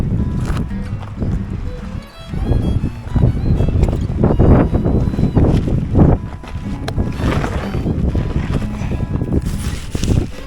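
Strong gusty wind buffeting the microphone outdoors during setup of a Lanshan 2 tent, loud rumbling bursts that rise and fall, with a person talking at times.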